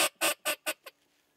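A series of five short, raspy teal hen quacks, loud at first and tapering off in a descending rhythm, made on a Duck Commander teal duck call.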